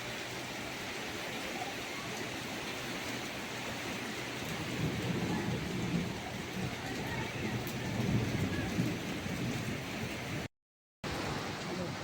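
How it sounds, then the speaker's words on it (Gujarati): Heavy rain pours during a windy thunderstorm in a dense, steady hiss with low rumbling swells underneath, loud and continuous, with a short silent gap near the end. "વરસાદ ચાલુ થઈ ગયો"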